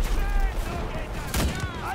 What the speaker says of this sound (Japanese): リロードを挟むずとも撃ち続けられるゲベア98